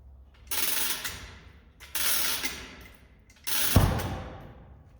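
A heavy cast-iron foot of a Monarch lathe is lowered by a hoist in a shop, with three separate bursts of ratcheting, chain-like mechanical clatter, the last ending in a sharp knock as the foot sets down.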